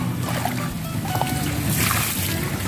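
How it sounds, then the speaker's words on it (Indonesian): Water poured from a container onto a grape vine's soil, carrying a mix of trichoderma and rice flour, makes a steady close trickle and splash that runs continuously through the moment. "Setelah aduk rata kita siram."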